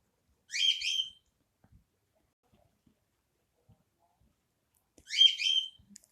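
A songbird gives two separate short, bright chirping calls several seconds apart, each a quick burst of high, twittering notes, clear against an otherwise quiet background.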